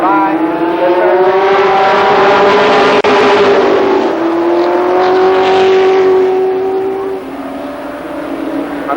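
Super late model stock cars race at Columbus Motor Speedway, a loud, steady engine roar holding high revs, then easing and dropping in pitch as the pack sweeps past, with a brief dip in the middle.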